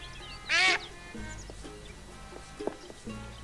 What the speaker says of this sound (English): I have a duck.